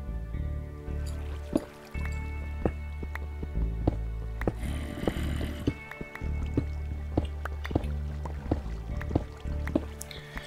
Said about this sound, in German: Ich folge einfach mal den Wassergeräuschen.